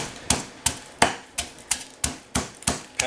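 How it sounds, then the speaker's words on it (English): Garlic cloves are pounded with salt into a paste in a mortar, giving about nine sharp, evenly spaced thuds in a brisk, steady rhythm, close and fairly loud with no talking. "In something where you want the best garlic flavor, you want to pound it."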